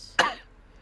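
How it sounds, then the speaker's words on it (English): A single short, sharp cough or throat clear from a person nearby, one abrupt burst that fades quickly into quiet. "All of us are coughing."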